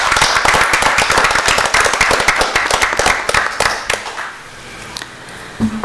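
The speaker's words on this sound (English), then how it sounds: "Can we give them a round of applause, please?" A board of education meeting audience gives a round of applause, dense steady clapping from many hands that gradually thins and fades toward the end.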